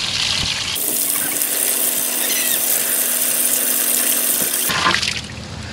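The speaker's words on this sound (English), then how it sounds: "Soak this guy in cold water." An evaporative cooling vest is soaked in cold water, with a steady rushing pour of water from a tap running loud and continuous for several seconds before cutting off.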